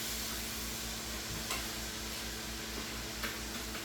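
Glaze mix sizzling steadily in a pan with pork chops, a close, continuous frying hiss with faint scraping, no voices over it.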